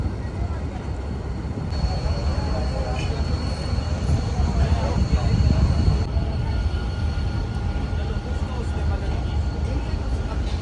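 A night passenger train, the Bahauddin Zakriya Express out of Karachi, departs behind a ZCU 30 locomotive, a steady rumbling roll of wheels and carriages heard from inside with a constant hum, loud and unbroken.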